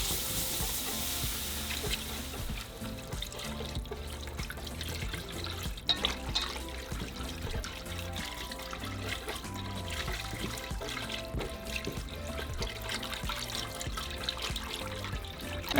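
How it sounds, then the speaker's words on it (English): Milk is poured slowly into a flour mixture for macaroni and cheese while it is whisked, giving a steady, continuous liquid trickle with light stirring, close by and without talk. "so now slowly we're going to pour in our milk."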